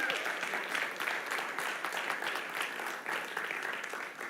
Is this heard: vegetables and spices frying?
no